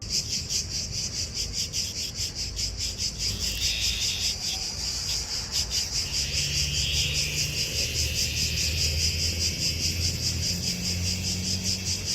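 Loud, dense insect chirping pulses steadily throughout on Kos, a constant buzzing chorus with no voices.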